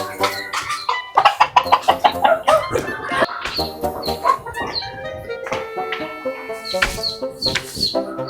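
Hens cluck in short repeated bursts, with faint chick peeps scattered among them. The calls are close and uneven, with quieter noise between them and no clear talk.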